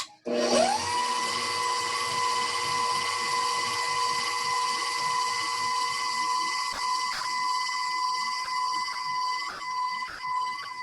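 An electric mixer beats strawberry lemon cake batter at medium speed, a steady close whine that starts abruptly and holds for about ten seconds, with a few faint clicks near the end and no talking.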